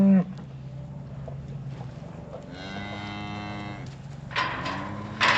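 Beef calves separated from their mothers moo repeatedly in a farm field, several drawn-out harmonic calls overlapping, the loudest bursts near the end, with no talking.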